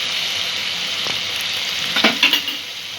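Spices with garlic paste and salt frying in a pan for peas and paneer pulao, a close, steady sizzle with a few scraping stirs near the end and no talking.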